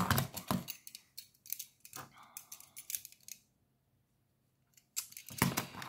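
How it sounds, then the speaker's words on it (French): Paper card being cut with a craft knife, several short scraping strokes in quick bursts, close and fairly quiet, with a silent pause before more cutting at the end. "faut que je coupe avec mon tranchet"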